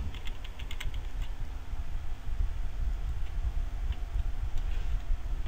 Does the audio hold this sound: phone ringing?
no